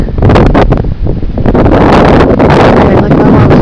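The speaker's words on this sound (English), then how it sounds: "It wasn't me, it was the wind." Strong wind roars and buffets the microphone in a Virginia blizzard, loud and continuous with gusty surges throughout.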